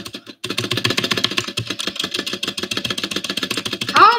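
Rapid keystrokes rattle steadily across computer keyboards during a Fortnite game, a close, dense stream of clicks after a brief pause at the start, with a rising whine near the end.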